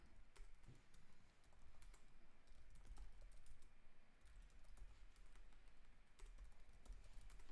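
Steady stream of computer keyboard typing, close and fairly quiet, with irregular key clicks running throughout and no talking.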